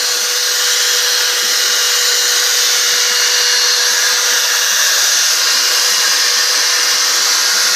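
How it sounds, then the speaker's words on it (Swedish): A power tool sands a log during a woodworking session at an IOGT-NTO peer-support gathering in Jokkmokk, giving a loud, steady, unbroken whine and hiss throughout with no talking. "putsar en stock"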